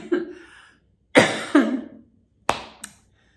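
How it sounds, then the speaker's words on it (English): Several sharp coughs come close and loud in quick clusters: one short cough, a pair about a second later, then two more brief coughs, with silence between them. "since I take this break to cough"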